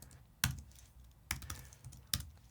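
Computer keyboard keys are pressed during web design work in Webflow, giving three distinct sharp clicks spaced about a second apart, with a few lighter taps between them in a quiet room.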